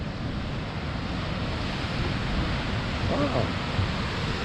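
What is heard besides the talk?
ocean waves washing into a hole in the rocky coast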